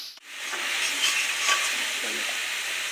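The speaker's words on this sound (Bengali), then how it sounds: "এর মধ্যে একটু লবণ দিয়ে নিচ্ছি আমি এই যে লবণ হলুদ একসাথে দিয়ে এখন আমি একটু ভাজা ভাজা করে নেবো" Greens seasoned with salt and turmeric fry in a pan with a close, steady sizzle, broken by a brief stirring clatter near the start.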